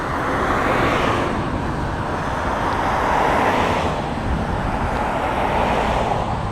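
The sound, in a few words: cars passing by on a road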